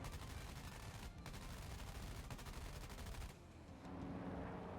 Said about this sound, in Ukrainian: давай вручну попробуємо постріляти